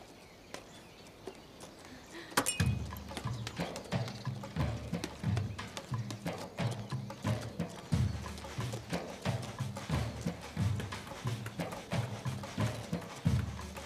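The horse Poyraz walks with steady, rhythmic hoof clip-clops that begin a few seconds in and continue close and clear to the end, with no talk over them.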